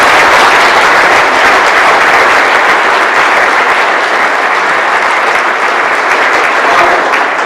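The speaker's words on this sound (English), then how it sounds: "Let's give him a big round of applause." A luncheon audience breaks into loud, dense applause, many hands clapping continuously and close up for several seconds with no pause.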